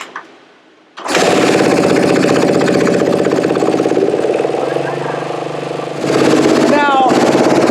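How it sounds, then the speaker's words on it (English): A Kawasaki KX450 dirt bike engine suddenly starts up and settles into a loud, steady idle, running continuously with a slight wavering rhythm. "Now, you'll know that it's idling right now."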